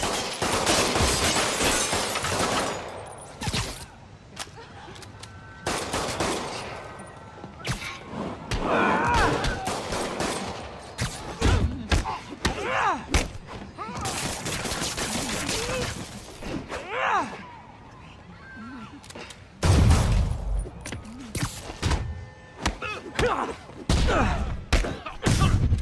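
Gunfire from thugs shooting at Spider-Man in Marvel's Spider-Man game, sharp bursts of shots mixed with crashes, smashes and thuds during a brawl, loud and irregular with frequent shouting voices over the chaos.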